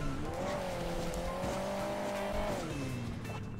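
A revving car engine from the Hill Climb Racing 2 video game, a steady held drone with the pitch climbing and then dropping back near the end, loud and continuous with no talk over it.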